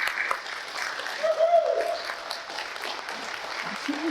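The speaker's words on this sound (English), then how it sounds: "Let's have a round of applause for all of our veterans." Crowd applauds local veterans at an outdoor honoring ceremony at ViaPort Rotterdam, a steady, fairly loud wash of clapping from many hands with some murmuring and a faint tonal sound mixed in.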